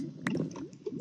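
A water bucket emptied in Minecraft, a short squishy liquid splash with dripping, gurgling texture, close and alone for about a second.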